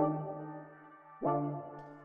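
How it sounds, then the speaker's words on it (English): A house cat meows twice, close and fairly clear, the second cry starting sharply after a short pause, with a steady low hum running underneath. "that is my cat meowing"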